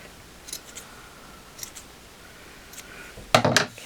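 Scissors snip little corners off fabric for a handmade snow sock bunny, a burst of quick close cuts near the end after a few faint earlier snips.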